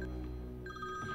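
A telephone rings in a Hindi-dubbed South Indian film scene, with a bright, electronic tone that starts, breaks and resumes briefly, heard clearly over a low background with no talking.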